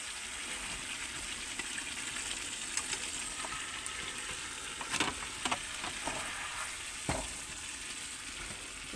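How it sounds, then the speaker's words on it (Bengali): Pointed gourd and potato frying with salt and turmeric under a lid, giving a continuous soft, muffled sizzle with a few faint clicks and knocks. "ঢাকা দিয়ে ভালো করে ভেজে নেবো"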